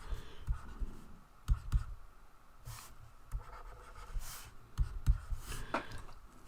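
Handwriting an inequality in math work, with irregular scratchy pen strokes and soft taps, close and quiet, coming in short bursts with brief pauses and no talking.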